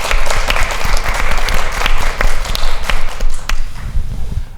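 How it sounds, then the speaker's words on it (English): An audience at a panel discussion on the Chinese Exclusion Act gives the panelists a big round of applause, loud close clapping that fills the whole stretch with dense, sharp hand claps and no talk. "can we have a big round of applause for the entire panel?"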